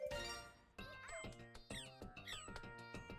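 Cartoon cats meow repeatedly in the video game ChuChu Rocket, a string of bright, pitch-bending meows and squeaky game sounds layered close together and nearly nonstop.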